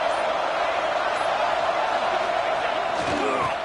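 A large stadium crowd roars continuously at a college football game as the defense faces a red zone stand, a broad, loud wash of cheering that swells slightly toward the end.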